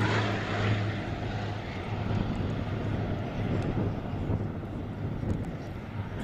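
A Bristol Blenheim propeller aircraft flying at a vintage airshow at Shuttleworth gives a steady, loud, rumbling engine drone with a low throbbing hum and wind buffeting over the microphone, no talk.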